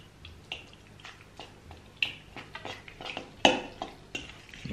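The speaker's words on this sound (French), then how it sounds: "Nous allons donc touiller ce mélange." A spoon stirs a Nutella mixture in a bowl, making a string of light clicks and scrapes against the sides, uneven and close by, with no talking.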